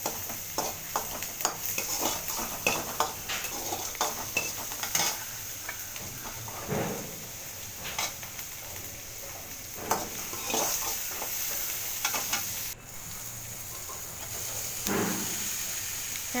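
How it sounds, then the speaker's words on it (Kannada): Chopped tomatoes with salt sautéing in a pan for capsicum rice, a continuous soft sizzle broken by repeated scraping and clinking strokes of a spoon stirring, close and steady with no voice. "ನಂತರ ಟೊಮೊಟೊ ರುಚಿಗೆ ತಕ್ಕಷ್ಟು ಉಪ್ಪು ಚೆನ್ನಾಗಿ ಬಾಡಿಸ್ಕೋಬೇಕು ಸ್ವಲ್ಪ ಮೆತ್ತಕ್ಕಾಗೋದಿಗೂ"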